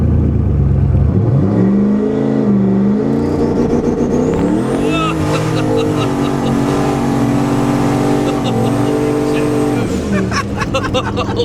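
A 1000-horsepower turbocharged Trans Am WS6 roars loudly and steadily throughout, engine pitch climbing and shifting on a trans-brake launch with little traction, close and continuous, with voices talking over it.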